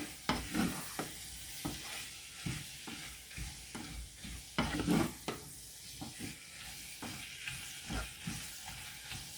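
Tomatoes and onions frying with spice powder for an eggplant and chickpea curry, a soft low sizzle broken by repeated scraping stirs, faint and close, with no talk.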